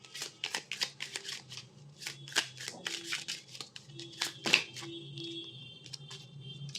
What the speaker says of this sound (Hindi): मैं एक और कार्ड लूँगी इसको क्लैरिफाई करने के लिए